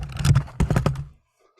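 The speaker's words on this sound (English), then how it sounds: "He's grabbing my keyboard." A cat named Henry pawing at a computer keyboard: a brief flurry of close, irregular key clatter and thumps, two short bursts within about a second before falling quiet.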